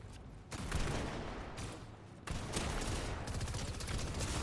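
Rapid gunfire in a first-person shooter game, dense bursts of loud shots filling the clip, with a short break before the firing resumes, no voices.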